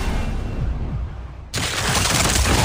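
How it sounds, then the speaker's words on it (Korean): Rapid gunfire bursts from a video game, loud and dense throughout, with the barrage intensifying sharply halfway through into a continuous wall of shots and booms. "사격 개시."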